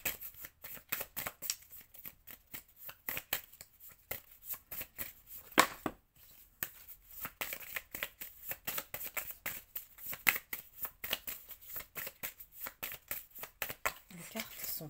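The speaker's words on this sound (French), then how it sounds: "Les cartes sont tellement fines que c'est difficile de mélanger." Thin tarot cards are shuffled by hand in a long run of quick, crisp riffling flicks and slaps, close and fairly quiet.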